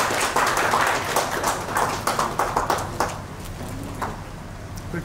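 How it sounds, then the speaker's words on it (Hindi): An indoor audience claps for a guest welcomed at a lifeguard-themed Śaṅkha nāda event: a dense burst of applause that gradually thins and fades over a few seconds, with no talk. "एक बार तालियों से डॉक्टर बादवा का अभिनंदन।"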